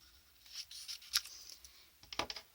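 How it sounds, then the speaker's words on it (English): Scissors trimming paper on a handmade vintage envelope flip book, several close crisp snips and cutting rasps scattered across a few seconds in a quiet room. "so grab some scissors,"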